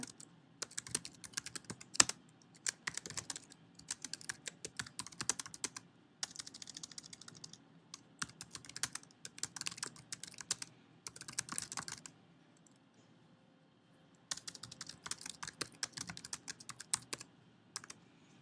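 Typing on a computer keyboard, quick runs of soft clicking keystrokes in several bursts with short pauses, close and fairly quiet, no talk.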